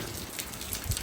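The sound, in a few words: rain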